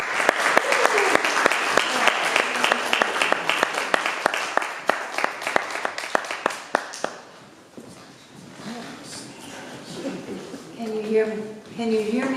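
Applause from a church congregation honoring named members at a Sunday celebration of life service, a dense burst of clapping lasting about seven seconds before fading, followed by quieter room sounds and a voice speaking.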